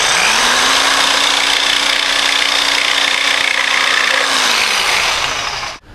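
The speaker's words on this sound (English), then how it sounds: "I'm going to freehand it here. I just going to take the jigsaw and do it." A jigsaw cutting crown molding freehand gives a loud, steady, high buzzing whine with a rasping blade chatter. It runs continuously at close range for about five seconds, then cuts off abruptly.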